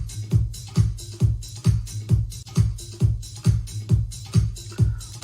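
Live-sounding band drum stems layered over programmed house drums, a steady four-on-the-floor kick with crisp snares and hats repeating evenly, loud and alone.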